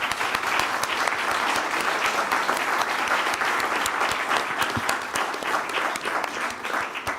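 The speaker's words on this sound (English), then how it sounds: "so applause." Warm applause from a conference audience thanking panel experts, a sustained crowd of clapping hands at even volume that gradually thins in the last seconds.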